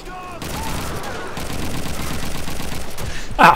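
Gunfire in a Call of Duty 2 battle at Caine: a steady crackle of shots running through the clip, with a sharp, loud report near the end.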